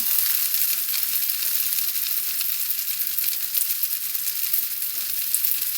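Eggplant omelette, tortang talong, fries in a pan with a steady, dense crackling sizzle that holds evenly throughout, close up and alone.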